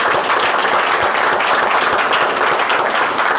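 Audience at a Vestige gathering in India claps together, a dense, steady wash of applause filling the room for a few seconds without pause.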